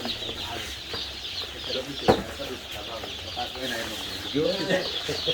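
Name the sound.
chickens and chicks clucking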